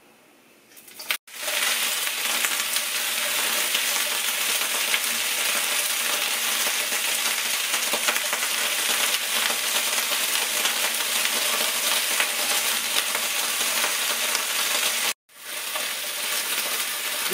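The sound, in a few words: frying okra in a pan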